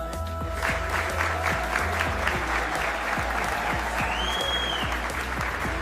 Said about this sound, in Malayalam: എല്ലാവരും നല്ലൊരു കൈയടി തന്നെ നമ്മുടെ വരനെ കൊടുക്കണമെന്ന് ആത്മാർത്ഥമായി അഭ്യർത്ഥിക്കുന്നു